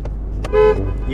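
A single short car horn beep from a stock 2020 Toyota Supra on the road, one brief tone under people talking inside the car.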